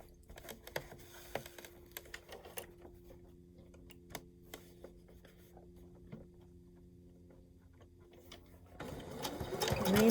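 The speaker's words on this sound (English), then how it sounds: "we're going to stitch across that" A sewing machine stitches across the seams of a snap-on bag with a soft, irregular ticking patter. The sound is quiet and close, and the motor rises to a louder whir at the end.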